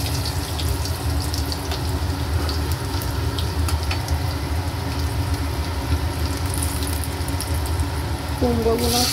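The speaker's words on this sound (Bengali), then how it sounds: "এবার এই তেলে আমি আলুগুলো একটু ভালো করে ভেজে নেব।" Potatoes fry in hot oil in a pan for a Bengali chhyachra with pui shak and catla fish, giving a steady, close sizzle while a person talks over it.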